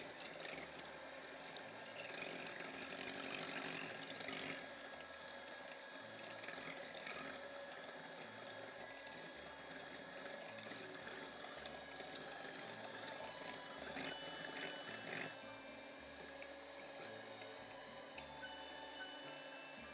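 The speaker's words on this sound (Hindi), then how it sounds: "चर्न करने के लिए हैंड बीटर का इस्तेमाल करेंगे, जो सिर्फ स्लो वाले मोड पे रख के इसको चर्न करेंगे" An electric hand beater on its slowest setting churns egg custard mix, a steady low mechanical whir with light sloshing and tapping against the bowl, quiet and continuous with no talking.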